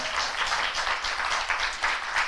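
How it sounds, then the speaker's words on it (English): Broad, steady clapping from a crowd, a continuous wash of applause that swells slightly in places without pausing. "Can we have applause for that?"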